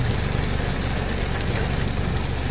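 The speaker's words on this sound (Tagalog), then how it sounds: "Ayan, may papasok na tricycle." A motor tricycle's engine on a street: a steady, dense low rumble and hum that holds at constant loudness throughout, with no voices.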